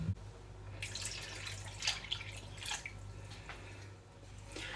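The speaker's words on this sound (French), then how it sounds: "Je vais ajouter de l'eau." Water poured into a pot of simmering bolognese sauce, heard as faint scattered splashes and drips over a low steady hum of kitchen background, with no talking.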